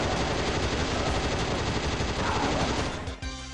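An assault rifle fires in continuous rapid bursts in a video game, loud and near, the dense clatter running almost the whole time before breaking off into a few separate shots at the end.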